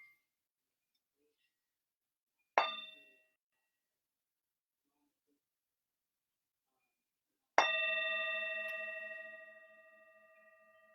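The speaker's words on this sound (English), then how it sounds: "So I'm just going to invite the bell again." A meditation bell is struck twice in a quiet room, each strike a bright metallic ring. The first fades quickly and the second is louder, with a sustained ringing tone that decays slowly over several seconds.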